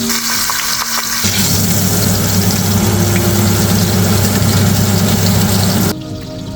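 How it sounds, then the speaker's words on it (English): Beef short ribs brown in hot pork fat in a pot, giving a loud, steady sizzle and crackle close by that drops off abruptly near the end. "using a high smoke point oil, or in my case pork fat, will make sure to brown the short ribs on all sides"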